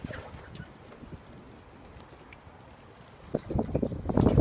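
Sailboat moving on water in the wind, with steady wind rush and water sloshing against the hull that grows louder and choppier near the end, heard up close with no talking.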